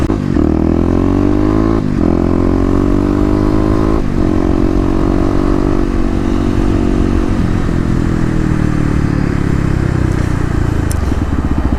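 A motorcycle on an open road, its engine a loud, steady harmonic drone that shifts pitch a few times as it accelerates and changes gear, then fades slightly near the end.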